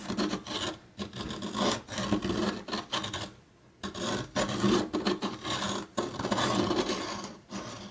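A Dahle 155 pencil sharpener grinds a colored pencil in repeated raspy bursts of cranking, each about half a second to a second long, with a short pause near the middle. It is close and loud with no talking.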